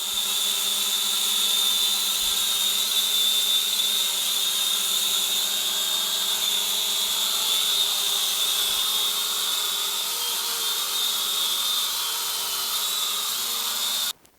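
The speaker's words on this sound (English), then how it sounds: "It's very hard for a drone to stay in the same place when it's full of obstacle and flying so low." A cheap camera drone flies low indoors, its high-pitched propeller whine droning steadily and fairly close for about fourteen seconds before cutting out abruptly.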